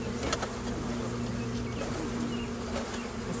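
A package of honeybees buzzes in a continuous, dense hum as they walk into the front entrance of a top bar hive outdoors, steady and close throughout.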